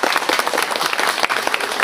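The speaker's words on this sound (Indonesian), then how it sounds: "tepuk tangan bapak-bapak." An audience of men at a cultural discussion forum on Pancasila breaks into loud, dense applause, many hands clapping rapidly and continuously throughout.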